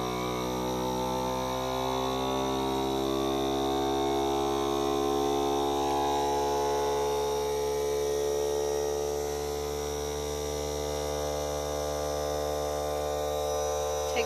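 A vacuum sealer pumps air out of a mason jar of freeze-dried strawberries, a steady droning motor hum that holds at an even pitch for the whole stretch, close and alone without speech.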